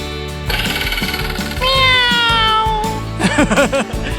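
A person imitates a cat, giving a few rising, wavering meows near the end over steady mechanical background noise, at an ice cream outing.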